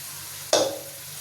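Ground coconut paste poured into a simmering fish curry, a sudden soft splash followed by a brief fading sizzle over a low steady simmer.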